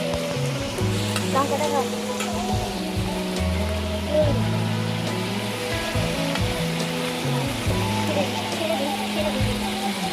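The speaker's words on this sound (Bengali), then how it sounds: "চিকেনটা দিয়ে ভালো করে কষিয়ে নিতে হবে।" Chicken sautés in a pan with salt, chilli and cumin powder, a continuous crackling sizzle with periodic stirring scrapes, while someone speaks briefly over it.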